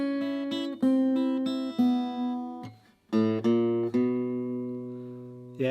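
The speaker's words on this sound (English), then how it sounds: "Okay, tip number 2 is learn the blues rundown." Guitar plays the blues rundown in E, a quick series of plucked descending notes followed by a brief pause, then a strummed resolving chord that rings out, clear and close with no talking.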